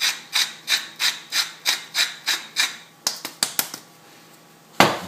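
Salt ground over a soybean salad in a kitchen: about nine even, rhythmic rasping turns of a mill, then a few sharp clicks and a final knock, close and clear with no talking.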